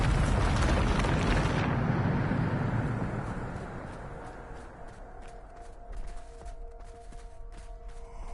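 A Bombarda spell explosion in the video game Hogwarts Legacy bursts loud and broad at the start, then rolls off into a long fading rumble with faint debris and a lingering tonal hum.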